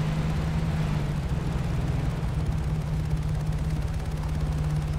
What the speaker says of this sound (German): Okay, da vorne ist wieder ein Helikopter.